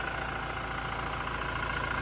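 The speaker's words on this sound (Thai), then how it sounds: "เครื่องยนต์เดินเรียบนะครับ ไม่มีสะดุดนะ" A 2016 Toyota Fortuner 2.4 diesel engine idling smoothly and steadily, a constant low rumble with no stumbles, close and fairly loud throughout.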